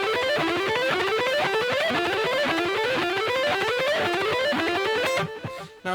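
Distorted electric guitar plays a fast alternate picking exercise, a dense, even stream of rapid picked notes in repeating rising runs, loud and alone, breaking off abruptly near the end.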